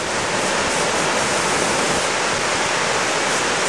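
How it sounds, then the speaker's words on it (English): Lepreau Falls in New Brunswick, a waterfall well over 100 feet wide carrying a large volume of water, roars as a steady, loud, broadband rush that never lets up. "That is quite a lot of volume of water coming over."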